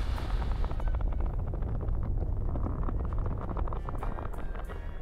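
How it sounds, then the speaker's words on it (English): A loud, sustained roaring rumble from an explosion in the video game Psychonauts 2, dense and heavy from start to finish with no speech over it. "And explosion."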